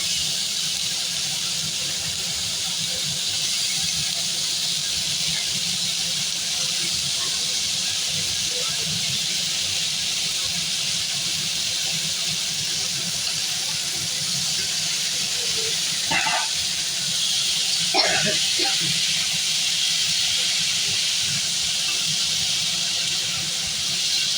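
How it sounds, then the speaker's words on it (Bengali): Chopped carrot, capsicum, green beans, potato and green chilli frying in butter, with a steady hissing sizzle throughout, close and fairly loud, broken by a couple of brief sharper crackles near the end. "এক এক করে সব সবজি কুচিগুলোই আমি মাখনতি দিয়ে ভাজবো"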